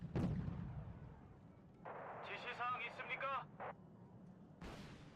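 Artillery fire in the video game Wargame: Red Dragon, with a sharp blast at the start, a burst of crackling impacts in the middle and another blast at the end, all under a quiet commentary voice.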